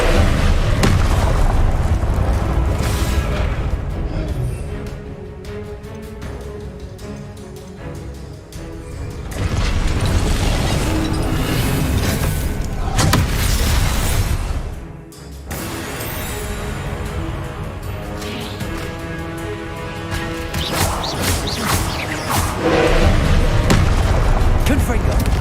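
Confringo blasting spells go off in Hogwarts Legacy, heavy booming explosions in repeated waves over loud game music and combat noise, with bursts of several seconds separated by brief dips.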